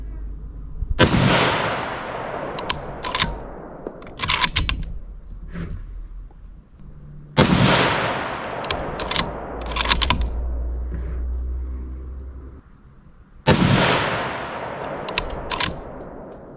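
Three loud, sharp rifle shots from a .30-06 firing 165-grain Federal Fusion ammunition, spaced about six seconds apart, each with a booming report and long echoing decay, plus faint handling clicks between them.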